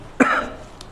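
A man gives a single short, sharp cough in a quiet room during a chemistry lesson, followed by a brief faint breath.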